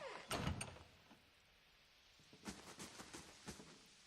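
A door swings shut in the fantasy role-playing game Pillars of Eternity, with a solid thunk near the start followed by a few lighter mechanical clicks and knocks, quiet and close.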